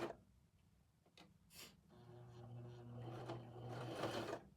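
A sewing machine back stitches in short bursts: a quiet motor hum with clicks starts after a few soft knocks and runs steadily for a couple of seconds, close by and alone.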